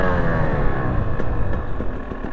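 A 2020 KTM 300 EXC TPI two-stroke motorcycle set up as a supermoto, its engine revving loudly and close, rising and falling in pitch as it accelerates on the road.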